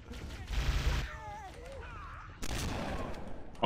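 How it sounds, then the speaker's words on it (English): Gunfire and a grenade blast in the Halo CE video game, delivered as two loud bursts of shooting around a short lull, with someone talking over the action. "Oh god, he threw a grenade."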